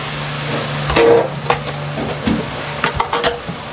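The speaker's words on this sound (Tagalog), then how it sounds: "Ngayon, maglalagay tayo ng cream." Cream added to a hot pan crackles and sizzles steadily, with scraping stirs and a few sharp clinks of utensil against the pan.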